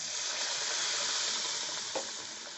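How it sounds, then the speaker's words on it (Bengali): Water lily stem fritters dipped in batter sizzle in hot oil with a dense, loud, even hiss that holds steady throughout, close up and without speech. "এই ভেলাগুলো এর মধ্যে ডুবিয়ে এই যে তেলে দিয়ে দেবো"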